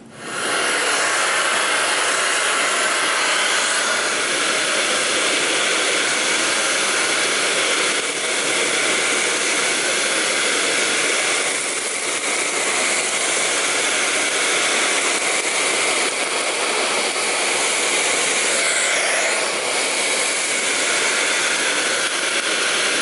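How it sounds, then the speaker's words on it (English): A Miele vacuum cleaner fitted with its switchable floor tool runs steadily on a bare wooden parquet floor, a loud, continuous airy whine and hiss that holds for the whole stretch with no speech. "the last floor tool we're gonna test is going to be the traditional Miele switchable"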